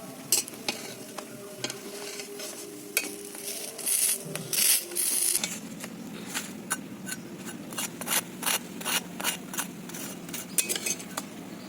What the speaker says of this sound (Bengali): বেগুনির আওয়াজটা নিশ্চয়ই শুনতে পাচ্ছেন একদম মুচমুচে হয়েছে